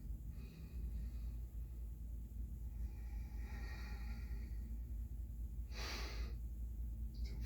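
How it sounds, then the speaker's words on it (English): Slow, steady Ujjayi breathing during a flowing yoga sequence: soft hissy inhales and exhales, with one stronger, nearer breath about two thirds through, over a low constant room rumble. "Don't forget about that Ujjayi breathing."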